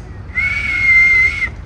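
A single sustained whistled tone, steady and fairly loud, held for about a second, with faint background noise around it; no talking.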